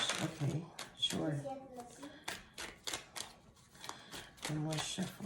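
Tarot cards are shuffled in quick bursts of riffling and slapping, close up, with a voice speaking softly in between.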